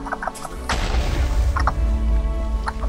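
A Minecraft creeper explosion bursts as a single close, heavy boom with a crackling rumble that decays over a couple of seconds.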